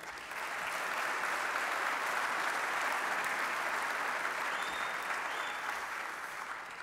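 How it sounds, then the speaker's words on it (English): A crowd applauds during a mayor's speech in Sacramento, a sustained, even roar of clapping that swells in quickly, holds steady for several seconds and tapers slightly at the end, with no talking. "So give yourselves a round of applause"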